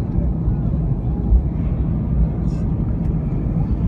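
Airliner engines spool up during the takeoff roll, a loud, steady low roar filling the cabin with broadband rumble, heard from inside the passenger cabin.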